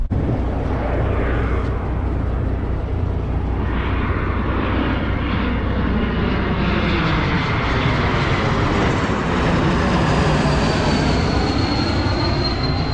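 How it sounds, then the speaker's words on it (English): A small airplane passes overhead near Boise, its engine roar loud and continuous throughout, with the pitch slowly shifting as it goes by, no voices present. "Little airplane watching today."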